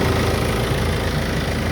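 Peugeot 308 SW 2.0 BlueHDi 150 diesel engine idling steadily at operating temperature after a coolant change, a continuous close low rumble with even vibration and no voices.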